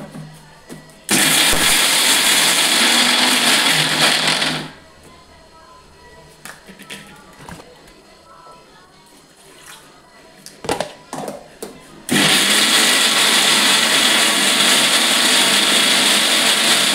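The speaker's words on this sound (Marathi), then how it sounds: "तर आता हे मी मिक्सरला वाटून घेते।" A kitchen mixer grinder runs loud in two bursts, blending garlic chutney with buttermilk, with a quieter gap of small taps and handling noises between the grinding runs.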